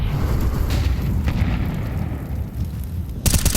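A high-explosive grenade bursts in Counter-Strike during an IEM Kraków match, a loud booming explosion that rumbles steadily for about three seconds before a sharper burst at the end.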